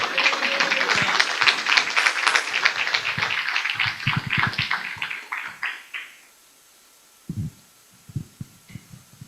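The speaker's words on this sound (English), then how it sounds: "Clap it up for Claudiane one more time" A workshop audience in Miami applauds for a participant, a burst of many hands clapping loudly for about six seconds, then fading out, followed by a few scattered thumps and faint sounds.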